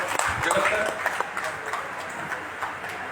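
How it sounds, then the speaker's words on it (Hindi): Audience at a Vestige business meeting applauding, a continuous wash of many hands clapping with scattered louder claps, heard fairly close. "तालियां बजाते रहो"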